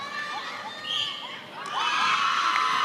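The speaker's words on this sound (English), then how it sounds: "as they're cheering on every goal by the homegirls" A crowd at a Barbados v Argentina netball qualifier cheers, with high shouts and whoops from many voices rising in two swells, the second louder and sustained to the end.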